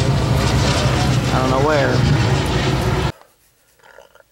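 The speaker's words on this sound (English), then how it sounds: "Hey, look, there's a plane." Over the Florida Keys, a plane drones steadily overhead amid loud wind and outdoor noise while a person talks, then the sound cuts off abruptly to near quiet.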